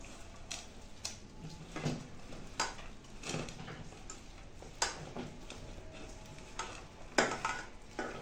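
Khesari greens being mixed with a little oil in a pan, heard as quiet, irregular clicks and scrapes of a spoon against metal, spaced a second or so apart, close and soft, with no talk.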